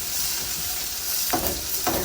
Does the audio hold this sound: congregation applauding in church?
no